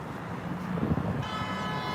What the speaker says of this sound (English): His car honking right now.